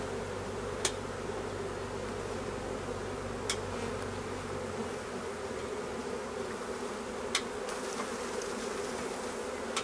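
A honeybee swarm buzzes steadily around a branch, a dense, even drone from many bees with a few faint clicks scattered through.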